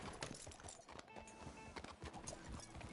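Horse hooves clip-clop steadily in Red Dead Redemption 2, a close, busy run of hoofbeats with brief whinny-like tones and faint voices in the background.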